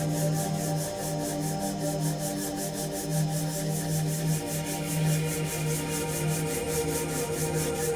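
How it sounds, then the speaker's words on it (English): Hands rub together in a steady, soft, continuous swishing friction close by, set during a guided relaxation session. "Consider bringing your hands out in front of your body and"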